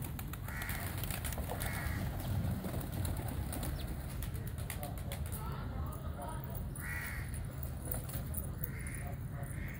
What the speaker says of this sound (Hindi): ये लोटन कबूतर हैं जी, ये कलाबाजियां खाते हैं